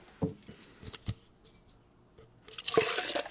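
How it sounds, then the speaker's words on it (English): Water being poured into a cup: a few soft drips and splashes, then a brief, close pour toward the end, faint and with no talking. "If I take this water in here, I have this cup. I put it"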